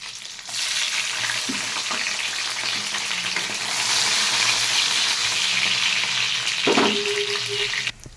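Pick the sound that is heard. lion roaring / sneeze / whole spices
whole spices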